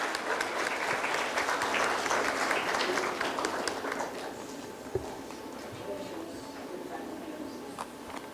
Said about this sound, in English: Can we have a big round of applause and welcome her?